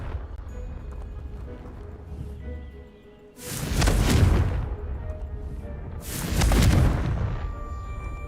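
Two heavy explosive blasts from the Confringo fire spell in Hogwarts Legacy, each a broad booming burst that swells and fades over a second or so, separated by a few seconds of quieter ambient rumble.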